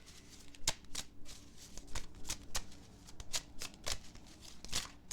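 Tarot cards being shuffled by hand, a series of quick, crisp riffling snaps and flicks in an irregular rhythm, close and fairly quiet.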